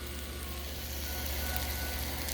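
Beef stir fry sizzling on a hot Blackstone griddle, a loud, steady, close hiss of frying with a low rumble underneath and no speech.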